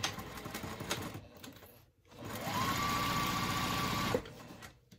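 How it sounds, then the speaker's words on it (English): A Juki sewing machine stitches through a tote bag at a 2.5 stitch length, a rapid mechanical whirring burst of about a second and a half with a rising whine, preceded by softer handling noises. "It's been sewing pretty well without using my Teflon foot."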